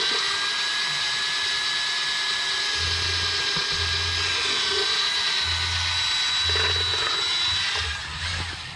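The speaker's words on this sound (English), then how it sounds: "So run your mixing tool, your drill, and then kind of add it in gradually" Handheld drill fitted with a mixing paddle stirring gelcoat for boat refinishing, a continuous loud whirring drone with slight pitch shifts, close, running alone throughout.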